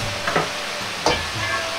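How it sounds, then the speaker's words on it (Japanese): Nuts rattle and scrape in a dry pan, with a couple of louder tossing rustles over a steady low hiss; no voices. "ナッツを軽く空炒りします"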